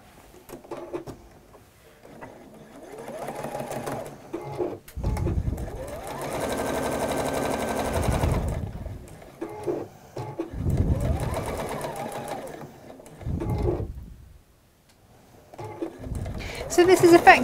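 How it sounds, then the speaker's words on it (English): A sewing machine stitches quilt blocks together in a workshop, running in several loud bursts of steady whirring separated by short pauses, with people talking between runs. "So we're now just going to sew the bottom half on, or the bottom third onto there."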